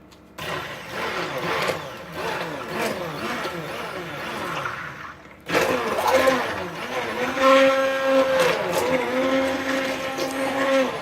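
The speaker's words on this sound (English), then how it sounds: "let's go ahead and start stick blending, mixing it all in" A stick blender whirs steadily through a batch of liquid castile soap, its motor pitch shifting as it mixes, with a brief pause midway before blending resumes louder.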